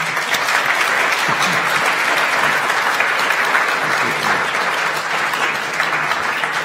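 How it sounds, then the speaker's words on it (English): A crowd applauds a panel at a talk on Jay Sarno, William Bennett and Circus Circus, loud continuous clapping filling the room evenly for several seconds without letting up. "a round of applause for our great panel"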